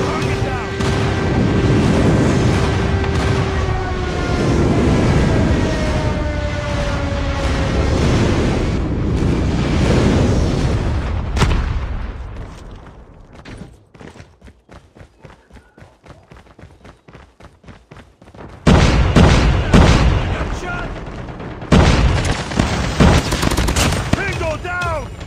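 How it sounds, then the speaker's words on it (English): Call of Duty match audio with a loud rolling wall of blasts and gunfire, then a quieter stretch of sharp crackling shots before heavy bursts of explosions return; a game announcer voice speaks briefly early on. "Enemy airstrike incoming."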